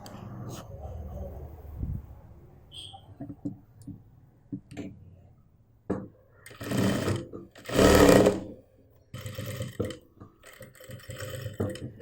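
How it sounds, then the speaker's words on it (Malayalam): Sewing machine stitching a zip onto a mobile pouch made from waste cloth: short whirring runs of stitching broken by pauses, clicks and handling noises, close by with no talking. "ആ ഭാഗം സിബിൻ്റെ ഇവിടെ വെച്ചിട്ട് ഇതുപോലെ ഒന്ന് സ്റ്റിച്ച് ചെയ്ത് കൊടുക്കണം"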